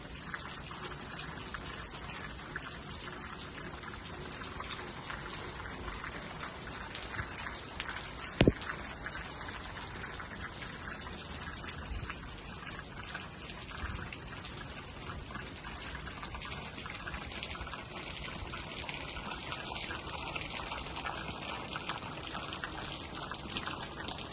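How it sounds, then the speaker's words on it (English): Steady rain falls in Jamaica, a dense patter of drops on surfaces with a constant hiss, plus one sharp knock partway through. "We are getting so much rain, guys, and I love it."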